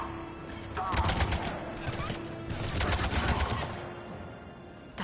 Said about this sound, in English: I did just fine shooting them